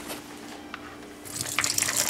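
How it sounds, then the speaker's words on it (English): Soaking water drains from almonds through a strainer in a kitchen, a soft, steady wash of running water that swells into a louder splashing pour toward the end. "I'm just gonna pour my almonds out just to get all of the water out that I soaked them in."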